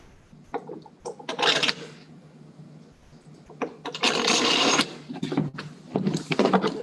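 Old bolts are dropped into place in a cap during a Stage 4 cap upgrade kit installation, giving a few short bursts of close metallic clinks and rattles separated by quiet gaps.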